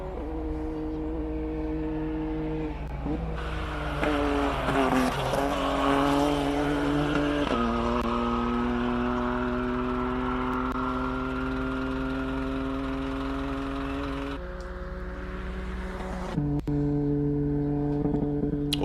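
Casey and Smith's MSA4 race car storms up the Simola hillclimb, its engine note climbing through the gears in long sustained pulls with brief shift breaks, loud and close throughout with no voices.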